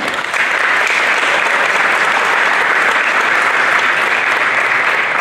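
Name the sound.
applause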